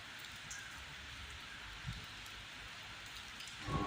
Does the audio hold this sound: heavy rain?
yes